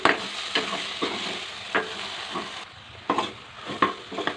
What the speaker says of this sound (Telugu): నాలుగు గుడ్లు వేసుకున్నాము కలపెట్టుకున్నాము ఇప్పుడు కొద్దిగా కాసేపు పెట్టా గట్టి పెడదామండి